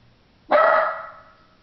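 A single loud, close dog bark rings out alone against near silence, with a short trailing decay.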